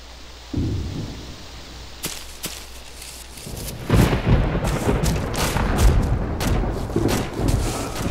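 Indirect artillery shells land in ArmA II combat during an assault on Krasnostav: a sharp blast, then a rolling cluster of heavy, rumbling booms that builds into sustained thunderous impacts.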